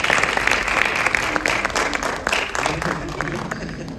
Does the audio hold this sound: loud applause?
yes